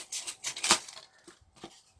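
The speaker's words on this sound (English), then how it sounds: "let's cut this little guy out with a pair of scissors" Scissors snipping through a paper gravestone for a miniature cemetery prop, a few quick close crisp cuts with short pauses between them.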